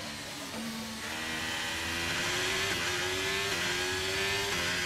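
Formula 1 car on a flat-out push lap in qualifying in F1 23: a steady, high-pitched engine howl that climbs in pitch through upshifts, loud and close, with no talk.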